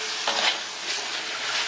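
Spicy tuna sambal in a pan is stirred briefly, a close, steady sizzle broken by a couple of soft scraping sweeps of the spoon.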